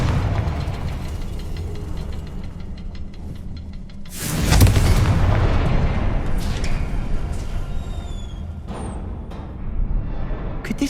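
A Confringo fire spell in Hogwarts Legacy bursts with a sudden loud explosion midway, its rumble fading over several seconds amid ambient game sounds and faint chirps.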